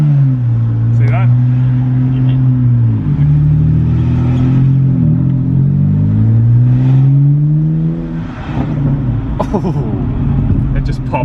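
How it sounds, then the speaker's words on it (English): A salvaged BMW car drives under its own power, its engine humming and rising in pitch as it revs through the gears, close and steady, with someone talking over it. "the car actually moves under its own power and it steers and feels good"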